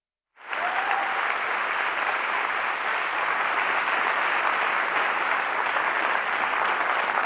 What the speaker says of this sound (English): let's give a warm round of applause for Geoff Hinton